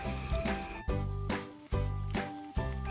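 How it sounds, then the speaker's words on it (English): Onions hitting hot oil in a pan for sautéed corned beef with potatoes, a loud steady sizzle that swells with each stir, repeating in three or four bursts with no talking. "Once the oil is heated, we're going to add our onions."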